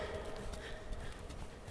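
A horse trots steadily during a riding lesson, its hoofbeats a continuous even clip-clop at moderate distance over a soft, constant background.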